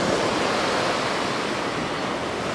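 Waves roll onto a white-sand beach at Hua Hin in a steady, washing hiss of surf. The rush is fairly close and unbroken, with no voices over it.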